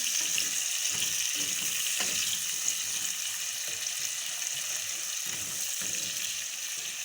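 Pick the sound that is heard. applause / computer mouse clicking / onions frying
onions frying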